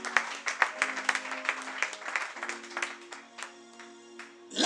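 A church congregation breaks into scattered, irregular clapping in praise of the Lord, with steady tones and a raised voice underneath. The clapping continues throughout before a louder burst at the end.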